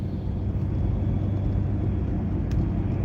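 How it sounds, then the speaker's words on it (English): A car pulls away from the roadside and drives at night, a low, steady engine and road rumble heard from inside the cabin, constant and fairly loud with no speech. "I'll pull off from the side of the road, and I'm gonna start driving again."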